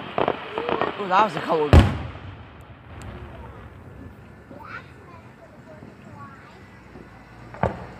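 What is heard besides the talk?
fireworks exploding in July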